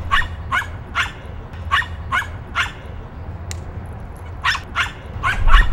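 A dog barks in sharp, close, evenly spaced pairs and short runs over a low background hum, pauses midway, then resumes with quicker barks. No one speaks.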